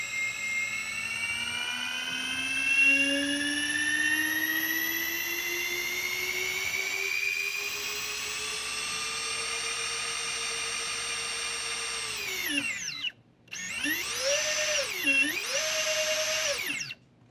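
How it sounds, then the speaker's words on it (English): Brushless 1100X-series motors on an X-Racer KL-EX90 micro drone spin up with a rising high-pitched whine, hold steady, then cut out and rev again in wavering bursts, close and loud. "I'm just going to run up these motors and just give you a taste of how smooth these are"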